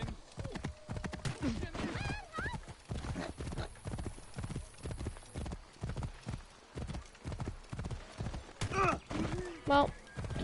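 Horse hooves clip-clop steadily in the Assassin's Creed video game, with a couple of whinnies breaking through near the end, while a person talks over the gameplay at intervals.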